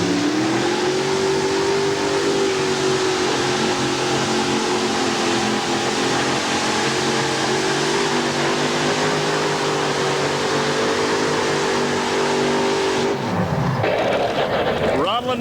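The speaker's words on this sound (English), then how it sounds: "Sassy Massey sponsored one tough running modified tractor." Modified Massey tractor at a 1990 NTPA tractor pull in Pocono, Pennsylvania, its engine roaring loud and sustained for most of the run before dropping sharply near the end, with an announcer talking over it.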